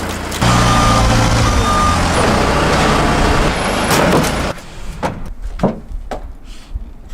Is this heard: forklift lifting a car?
yes